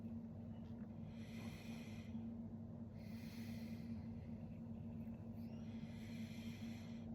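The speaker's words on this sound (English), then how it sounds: "Breathing in and letting go." Slow, deep breathing during a guided Jewish meditation, with breaths rising and falling in long, even cycles about every three seconds over a steady low hum, and no talking.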